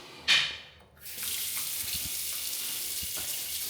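Water running from a sink tap in a hotel bathroom in Rome, a steady rushing stream that starts after a brief splash and carries on evenly at close range, with no one speaking.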